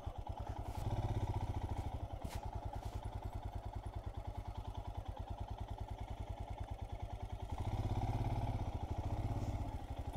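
A motorcycle engine runs near a reservoir in Vizag, putting along steadily with an even, rapid pulse and a slight swell in loudness partway through, near and fairly quiet, with no talk.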